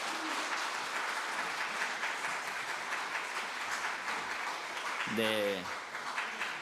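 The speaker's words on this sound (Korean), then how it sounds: "우리는 뜨겁게 박수하겠습니다" A congregation at a prayer meeting claps warmly in steady, dense applause that fills the room throughout, with a voice briefly heard near the end.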